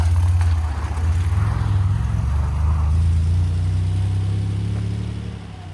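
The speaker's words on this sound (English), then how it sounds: "we got the Mark 1 Capri rolling out down that way. Being followed by the turbocharged Mark 2." A Ford Capri Mark 1 pulling away, followed by a turbocharged Mark 2, at a classic car and bike breakfast meet outside a pub; a loud, close, deep engine rumble holds steady, then eases as the cars move off.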